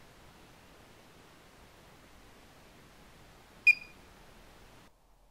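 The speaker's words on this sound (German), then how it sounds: "Der Piepton gibt die Messung frei." A Luga 1.2 gas detector gives a single short, sharp electronic beep after a long stretch of quiet hiss, faint background otherwise.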